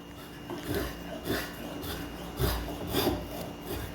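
A hand spokeshave shaving wood with a finer cut, giving a series of soft, raspy strokes roughly every half second, close and fairly quiet with no talking.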